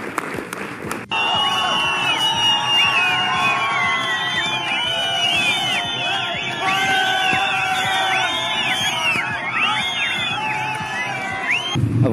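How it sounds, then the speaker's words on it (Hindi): Crowd celebrating India's 2024 World Cup win, loud and continuous cheering, whooping and applause with dense shouting voices throughout, after a brief quieter opening second. "एक बार इंडिया के लिए तालियां होनी चाहिए।"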